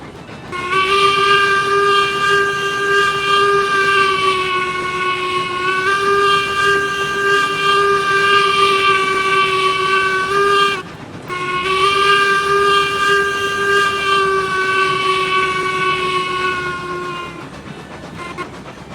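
A steam locomotive whistle in the video game Railroads Online blows long and loud in sustained harmonic blasts, pausing briefly before sounding again, then fading at the end.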